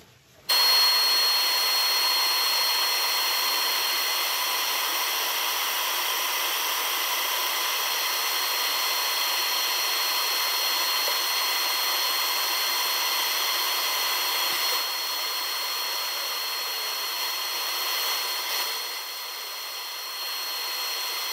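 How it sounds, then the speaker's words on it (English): Continuous steady whine of a power sander working horse chestnut burl wood spinning on a lathe, loud and unbroken for the whole stretch with no talk. "Right, I'll start off the sanding."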